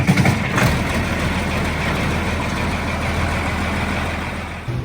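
A 1968 Allis-Chalmers 190XT Series II diesel tractor settles into a steady, loud idle with a constant low rumble. A brief burst at the start likely marks the engine catching, and no voices are heard.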